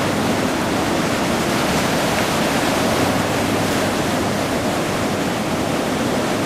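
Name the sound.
ocean waves surf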